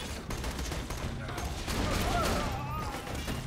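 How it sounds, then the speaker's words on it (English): Rapid bursts of gunfire from the video game Borderlands rattle continuously for several seconds, dense and loud, with voices talking over the shooting. "There are so many gunshots."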